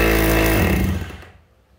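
A used 220V electric hammer in concrete chiselling mode hammers with a loud, rapid, buzzing motor drone, then winds down and fades within a second or so after release.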